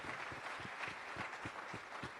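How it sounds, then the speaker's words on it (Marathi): A church congregation at a Sunday service claps hands in a steady rhythmic beat, fairly faint and roomy, with the claps blending into a soft wash of crowd sound. "Let's clap our hands."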